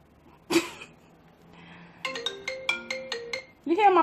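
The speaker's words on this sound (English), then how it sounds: "You hear my phone ringing? That's not my ringtone." A phone ringtone plays a short repeating melodic pattern of bright electronic tones, preceded by a sneeze-like burst and followed by a voice.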